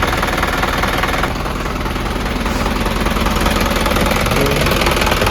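An overhauled Isuzu 4HG diesel engine runs steadily and loudly up close, a dense clattering idle with a constant knocking rhythm and no speech over it.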